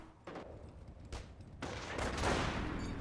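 Gunfire in the World War II strategy game Company of Heroes, a few separated shots and then a thicker, sustained crackle of fire with rumbling battle noise, moderately loud.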